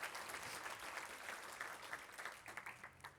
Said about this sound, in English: How about a big round of applause for those hardworking deputies?